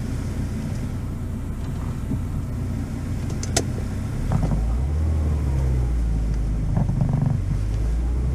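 A Peugeot 306 with a newly replaced idle valve drives off, its engine humming low and steady from inside the cabin with a few faint clicks and a gentle rise in rumble as it pulls away.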